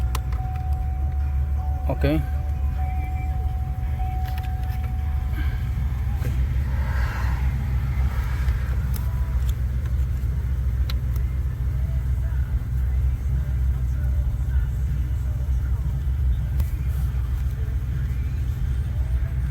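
A 2003 Pontiac Aztek engine idles steadily with a constant low rumble, heard up close in a parked car while a person speaks briefly over it.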